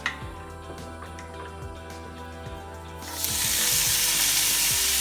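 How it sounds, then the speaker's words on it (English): Lo mein stir fry hits a hot pan and erupts into loud, steady sizzling, preceded by a few seconds of quieter kitchen noise with faint clatters. "That's why it's called stir fry."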